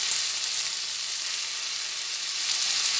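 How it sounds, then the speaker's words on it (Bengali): Flat beans fry in hot oil with a steady, dense sizzle throughout, with stirring in the pan faintly audible beneath the hiss. "এরপরে আবার একটু ভালোভাবে নাড়াচাড়া করে নিই"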